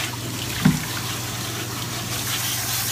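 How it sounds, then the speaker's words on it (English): Water sprays from a garden hose onto a reef tank filter sock, a steady hissing rush of pressured water running evenly throughout, close and moderately loud, with a brief knock near the start. "You see the pressure coming out of the hose."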